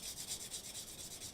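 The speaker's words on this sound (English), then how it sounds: "Yep, we're back to hand sanding again." Damascus knife scale liners sanded by hand make rhythmic back-and-forth rasping strokes, close and steady, about six strokes per second.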